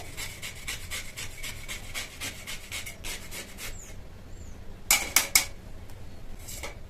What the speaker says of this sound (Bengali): গ্রেটারের সাহায্যে গ্রেট করে নেব